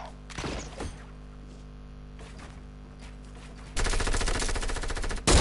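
Video game gunfire with a few sharp shots early on, then a quiet gap and a loud sustained burst of automatic fire near the end, with no speech.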